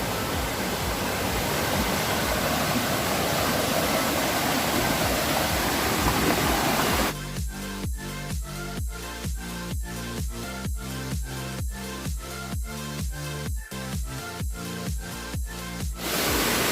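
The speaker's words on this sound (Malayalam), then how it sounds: "നല്ല ഒഴുക്കുണ്ട് കേട്ടോ ഇവിടെ വെള്ളം നല്ല ശുദ്ധമായ വെള്ളമാണ്" Rushing water of the Urulikkund waterfall stream in Kannur, a dense, loud continuous roar that carries on without pause throughout, with no voices over it.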